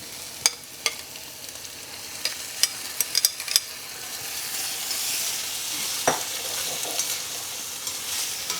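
Lamb pieces tumble back into a pan of soft, translucent vegetables and sizzle steadily, with scattered clinks and stirring scrapes over a continuous close frying hiss.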